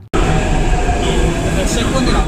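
Metro train at Tarnaka metro station, a loud, steady rumble and rush of the carriage in motion that holds for about two seconds before cutting off, with faint higher whines riding over it.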